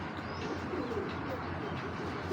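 Racing pigeons coo in a low, continuous murmur, several birds close by in a loft, with faint chirps mixed in.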